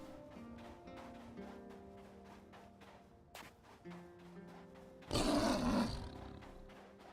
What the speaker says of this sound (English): is that a fucking mountain lion?